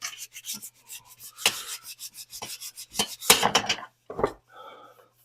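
Salvaged car trim being hand-sanded up to 400 grit, with short rhythmic rasping strokes, some louder and longer than others, close up with brief pauses between them.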